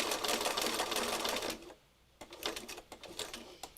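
A sewing machine stitches lace onto a fabric heart in a fast, close, rattling run that stops briefly, then returns in short clicking bursts.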